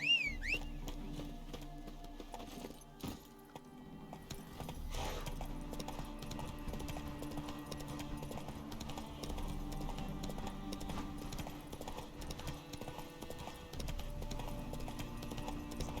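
Horse hooves clip-clop steadily in The Witcher 3 video game, a soft rhythmic trot mixed low under game ambience and music, with a faint whinny.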